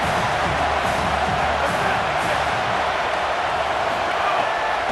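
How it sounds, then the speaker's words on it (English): Continuous loud crowd roar in a Michigan vs Penn State college football video game, a broad steady wash of cheering with no breaks, commentary faintly underneath. "The roar of the crowd trying to fuel this defense to keep them pinned in their own end."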